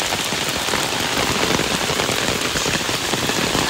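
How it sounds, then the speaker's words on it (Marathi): Dense, loud rain pours steadily onto surfaces, a constant roaring hiss with no letup. "मरणाचे खूप पाऊस पडता"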